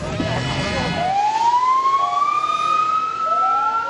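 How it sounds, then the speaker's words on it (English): An ambulance siren wails during nighttime air strikes in Gaza, a single rising tone that sweeps up and holds loud and clear after a burst of rumbling noise at the start. "An ambulance rushes to help victims in the latest military strikes."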